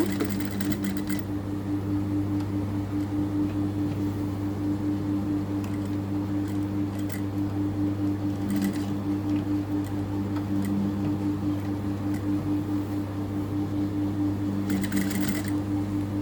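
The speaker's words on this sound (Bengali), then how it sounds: "ধরে আমি সেলাই শুরু করব। ব্যাক স্টিচ দিয়ে নেব।" A sewing machine attaches a zipper chain with a back stitch, giving a steady fast ticking stitch rhythm over a low motor hum, close and continuous with brief pauses.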